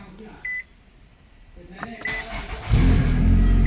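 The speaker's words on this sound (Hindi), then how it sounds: "मैं इग्निशन ऑन करके गाड़ी स्टार्ट करता हूँ और आपको चेक कराता हूँ।" A 2019 Nissan Altima with a gear lever stuck in park starts up: a couple of short dashboard chimes, a brief starter whir, then the engine catches and settles into a loud, steady idle close by.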